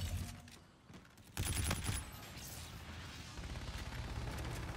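Gunfire on the Nuke map in Counter-Strike, a dense fusillade of shots and bursts over continuous game noise, loud and sustained through most of the stretch.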